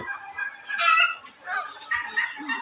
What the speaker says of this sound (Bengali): এই যে আমার রাজহাঁস আছে এখানে